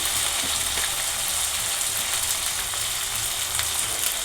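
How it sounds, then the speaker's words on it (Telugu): Okra pieces sizzle steadily in hot oil in a pan, a dense continuous frying hiss that holds close and even throughout with no voices. "ఇప్పుడు ఇట్లా ఫ్రై అవుతుంది కదా"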